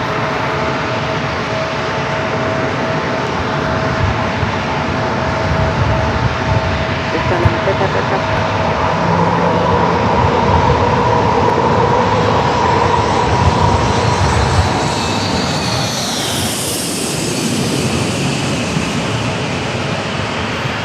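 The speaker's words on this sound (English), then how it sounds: "I have a Hawker 800 XP up next for arrival." A Hawker 800XP business jet arrives at San Diego airport, its engine roar building steadily over a long stretch, with a rising whine near the end and talk heard over the noise.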